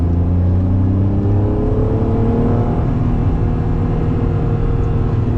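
Acura NSX without power steering driving through turns, its engine droning steadily from inside the car, with the pitch rising and shifting as it accelerates.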